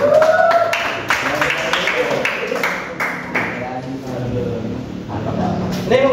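Classroom applause for a student group in a vocational high school math lesson: a spread of hand claps from pupils, moderately loud and steady for several seconds, with a few sharp taps and voices over it.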